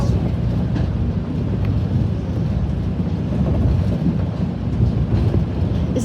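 A Blue Ridge scenic railroad train rolls along the tracks, heard from inside a car as a steady, loud low rumble with faint rhythmic clatter and some wind buffeting, no talking.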